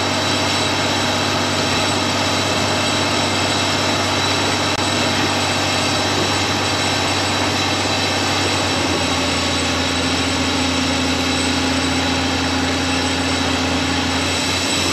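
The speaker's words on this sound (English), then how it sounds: "You could tell the tractor was kind of pulling hard with it." A steady, loud tractor engine drones under heavy load while pulling a seed drill across a valley field, a constant unbroken roar with deep low rumble throughout, no voices.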